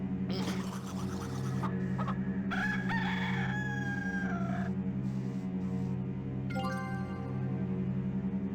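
Rooster crowing in the Discworld II adventure game, several loud, drawn-out cock-a-doodle-doo calls with clucks in between over a steady musical game background.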